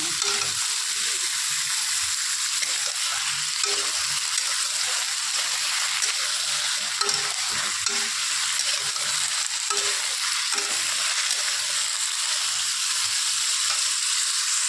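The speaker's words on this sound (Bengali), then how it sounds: "ওদিকে আলুটা ভাজা হচ্ছে দেখো" Potato pieces frying in oil in a pan give a loud, continuous, even sizzle and crackle throughout, with a few soft clinks and no speech.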